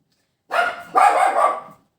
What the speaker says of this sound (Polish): I zawsze szczeka, jak ktoś idzie po klatce.